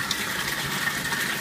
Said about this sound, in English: Water flow is great.